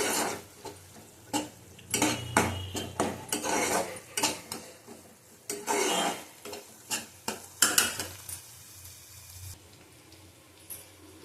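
Panch phoron (cumin, nigella, fenugreek, fennel) dry-roasting in a pan comes through as repeated scraping and stirring with clinks of a spoon against metal. The bursts are irregular, close and moderate in level, with a faint crackle between them.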